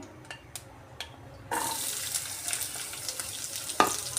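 Sliced onion dropping into hot oil in a kadai for a Telugu-style amaranth leaf fry, setting off a steady loud sizzle with light stirring scrapes, no talk.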